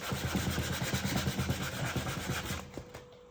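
Wooden edges of an mbira soundboard are hand-sanded with sandpaper: quick, rhythmic back-and-forth rasping strokes, close and steady, tapering off near the end.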